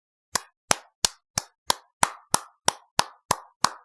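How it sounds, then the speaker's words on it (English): One person giving slow, deliberate claps, eleven sharp evenly spaced hand claps close to the microphone with silence between each, no talking. "I'm giving you a real round of applause, sir."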